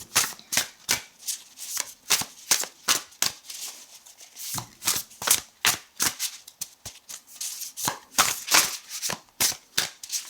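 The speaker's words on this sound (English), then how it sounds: "It's so difficult shuffling on this glass table because everything slips." Tarot cards being shuffled on a glass table, a run of crisp slapping riffles and snaps in quick irregular bursts, close and clear with no talk.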